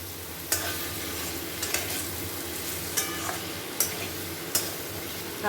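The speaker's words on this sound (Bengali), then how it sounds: "আর একটু কষিয়ে নিয়ে এর উপর দিয়ে একদম টমেটোটা দিয়ে নিয়েছি, দিয়ে একটু কষিয়ে নেব" Spice paste and tomato sautéing for a Bengali katla fish curry with cauliflower, a steady close sizzle with sharp scrapes of a spoon against the pan at intervals, no talking.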